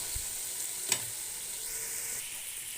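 Methi leaves and spices frying in a kadai, giving a steady soft sizzle throughout with one brief scrape of stirring near the start.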